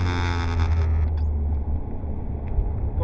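A Ferrari F430 engine drones loud and close as the car pulls around the Mettet circuit, a steady rumbling tone that holds throughout with the upper end of the sound thinning out midway.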